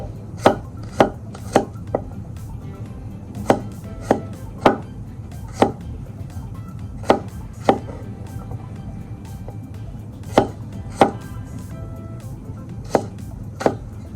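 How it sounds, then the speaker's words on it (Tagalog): Beans for sinigang na labanos are chopped with a knife on a cutting board. About twenty sharp, close strikes land in loose bursts over a low background hum. "Chop natin. Beans."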